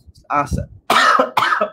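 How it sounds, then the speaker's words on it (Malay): A man coughs a few times in quick, harsh bursts at close range, with some voiced throat noise between the coughs. "Aku pula yang batuk."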